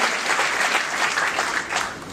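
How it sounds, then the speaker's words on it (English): Brief burst of crowd applause during a Michelle Obama speech in Las Cruces, a steady wash of many hands clapping for about two seconds with no talking over it. "you might want to applaud"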